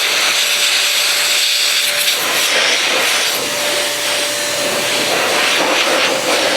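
A Metrovac blower drying a freshly washed car blasts a loud, continuous rushing hiss at close range, steady throughout with only slight wavering as the airflow is moved.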